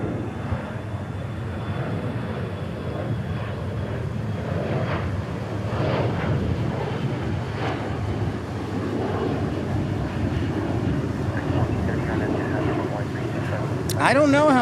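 An airliner departs DFW International Airport bound for Springfield, Missouri, its steady broad engine roar rolling on at a distance throughout, with wind buffeting and occasional background voices.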